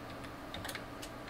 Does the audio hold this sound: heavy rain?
no